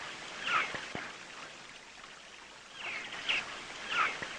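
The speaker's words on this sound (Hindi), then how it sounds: "ये झरने की आवाज़ सुनो तो मन को बहुत सुकून मिलता है" A waterfall's steady rush of flowing water runs faintly throughout in a quiet outdoor setting, with a few brief bird-like chirps rising above it.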